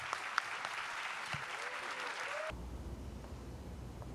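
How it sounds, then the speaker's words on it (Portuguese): An audience at a book fair applauds steadily for about two and a half seconds, then the clapping cuts off abruptly into a low hum. "um agradecimento e aplausos muito especiais para Lázaro e Ronilson"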